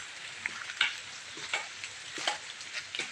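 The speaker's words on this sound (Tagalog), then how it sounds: "Maulan-ulan pa nga" Light rain falls outdoors near plants in a soft, steady patter. Scattered individual drops tick and crackle faintly through the continuous hiss.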